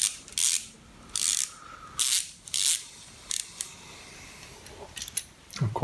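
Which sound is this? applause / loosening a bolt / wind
loosening a bolt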